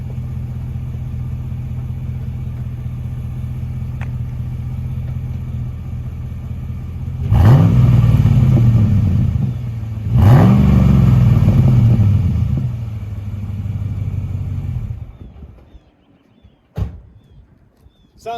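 2009 GMC Sierra 1500 Denali with a 6.2L V8 and an aftermarket muffler, idling with a deep burble, then two sharp rising revs in quick succession that fall back to idle before the engine cuts off, loud and close.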